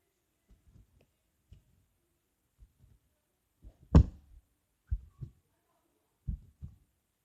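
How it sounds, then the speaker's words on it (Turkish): Foley heartbeat made by thumping a t-shirt: a sparse series of low, dull thuds in irregular pairs, quiet at first and then louder and closer, with one heavier thump in the middle. "Evet, bu da kalp sesi."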